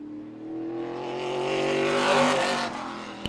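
A late model race car, number 13, rolls onto the Meridian Speedway track in Idaho, its engine droning steadily and climbing in pitch and loudness before easing off near the end.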